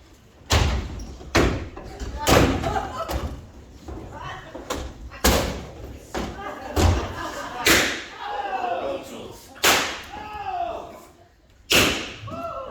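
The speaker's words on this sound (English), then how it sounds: "It's gunshots in the library." A theater play's stage gunshot effects ring out as sharp, loud bangs, about a dozen irregularly spaced, with voices and stage movement in between.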